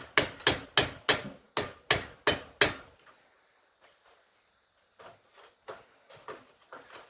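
Hammer driving a pin out of a shovel head held in a vice, with eight sharp, evenly spaced metallic strikes up close, then quiet, with faint lighter taps and clinks near the end.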